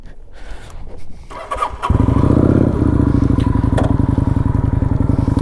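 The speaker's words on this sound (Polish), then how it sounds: "Stacyjka jest tutaj. Przekręcamy. Palimy maszynę." A Kawasaki Vulcan 900 cruiser is keyed on and started, with a brief cranking whir giving way to a loud, close, steady idle with an even lumpy beat.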